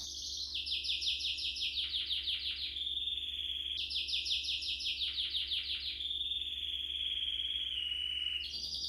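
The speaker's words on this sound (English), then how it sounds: "sounds being the bird's song." Birdsong in a Marrakesh riad courtyard: a bird repeats bright, rapid descending trilled phrases, clear and fairly near, several times over a low steady background hum, with no talk.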